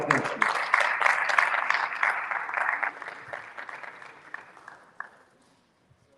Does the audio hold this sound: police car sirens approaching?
no